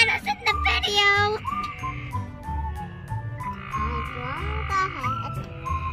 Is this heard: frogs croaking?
yes